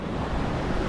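Strong ocean waves crash on Cabangaoan Beach in Burgos, Pangasinan, a dense, continuous roar of surf mixed with wind buffeting the microphone.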